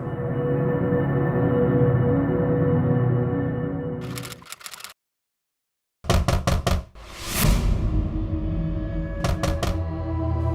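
Someone knocks on a house door in a police crime drama scene, with several quick bursts of sharp raps over background music, which briefly cuts to silence between bursts.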